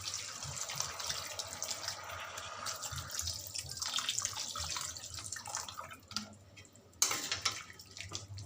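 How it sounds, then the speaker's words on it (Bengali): Water is poured into a cooking pot in a home kitchen, a soft, uneven splashing and trickling stream that stops briefly near the end before resuming, fairly faint and with no talking. "এবার আমি পরিমাণ মতো জল দেবো।"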